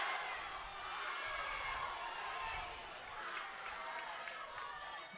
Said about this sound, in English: The crowd's lifting New South Wales.